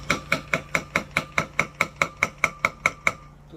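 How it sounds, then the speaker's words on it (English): A lightweight hammer taps a spout into a mini oak barrel with about fourteen sharp, evenly spaced knocks, close and fairly loud, each ringing briefly before slowing to a stop. "Get yourself a nice lightweight hammer."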